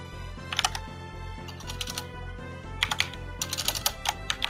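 Computer keyboard keys clatter in quick irregular bursts of typing, close and fairly crisp, with short pauses between runs over a low background hum.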